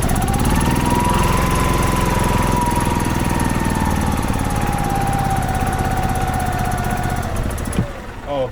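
A 2005 Club Car Precedent gas golf cart engine, just revived after five years sitting, runs with a steady rapid chugging putter and a faint whine, loud and close throughout before cutting off near the end.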